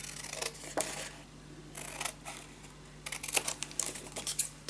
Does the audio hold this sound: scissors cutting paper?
yes